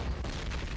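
Grenades bursting in an online Call of Duty 1 match on the Tigertown map, a dull, muffled boom with a rumbling low tail that fills the short moment, heard with no talk.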